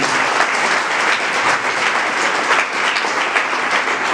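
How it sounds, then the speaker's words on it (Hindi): Loud, sustained audience applause at a prize distribution event held on Father's Day, dense clapping filling the space evenly from start to finish. "एक बार पिता के लिए एक बार जोरदार तालियां बजा दें।"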